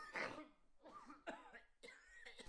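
A few harsh, wet coughs in a medicine advertisement for a phlegm and chronic cough remedy, arriving as four or five separate bursts at close range, fairly faint overall.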